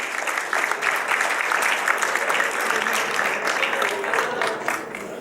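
An audience at an academic event on physical education applauds a professor's talk, steady, dense clapping from many people heard at a moderate distance and holding an even level throughout, with faint voices mixed in.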